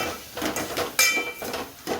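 A spoon clinks and scrapes against a metal cooking pot while spices and a boiled mixture are stirred, a few sharp close metallic knocks in quick succession.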